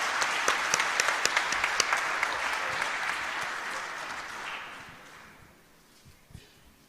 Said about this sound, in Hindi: एक तालियों से हम स्वागत करें